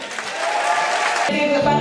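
Brief burst of crowd applause welcoming a singer onstage, loud and close, cutting abruptly into music after about a second.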